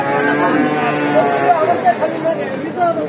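Indian-breed cattle, including a young heifer calf, low and call amid the steady crowd chatter of the Dakumara livestock market in Bogura; close voices talk throughout over the busy background.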